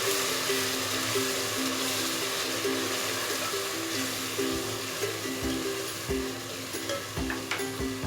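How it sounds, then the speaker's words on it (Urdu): Ginger garlic paste frying in a pan for chicken masala biryani gives a continuous hissing sizzle at moderate loudness, with occasional soft clinks of stirring. "جب آپ ادرک لہسن پیسٹ اس میں شامل کریں گے اور فرائی کریں گے"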